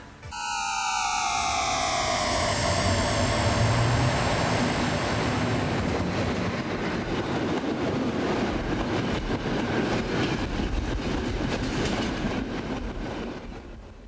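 Norwegian NSB passenger train running on rails, a loud steady rumble with clattering wheels, opening with high descending squeals that fade as the ride continues.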